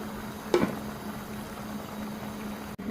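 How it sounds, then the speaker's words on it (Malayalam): Prawn theeyal curry bubbling in a pot, a soft steady simmer with one brief louder splutter near the start, close and quiet, with no talk. "ചെമ്മീൻ തീയൽ നല്ല തിളച്ച് റെഡിയായി വരുന്നുണ്ട്"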